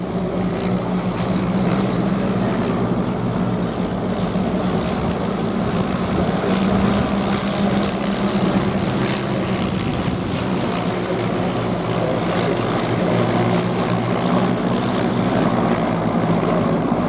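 Propeller engines of de Havilland Moth biplanes from the Tiger 9 display team flying in formation at a Little Gransden airshow, a steady loud droning hum that holds throughout.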